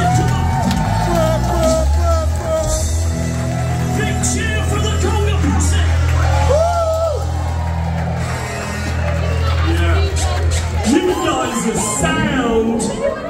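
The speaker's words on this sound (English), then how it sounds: "Cheer for the Congo Posse!" A loud, close concert crowd at a show cheers steadily, with whoops, shouts and bellows rising over a dense roar that dips briefly near the end before swelling again.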